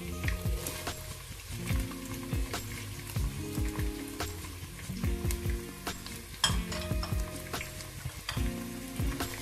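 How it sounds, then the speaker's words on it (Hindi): Chopped onions sizzle and fry in a pan with ginger garlic paste, a steady crackling hiss broken by the scrape and clatter of stirring, close and fairly quiet with no voices. "अब हम इसमें डालेंगे प्याज।"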